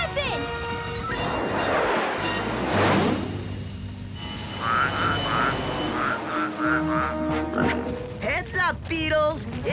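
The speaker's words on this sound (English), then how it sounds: "It's raining cane toads, and they're hungry!" Cartoon cane toads croak in a rhythmic series of short, repeated calls amid busy animated sound effects, with character voices talking over parts of the scene.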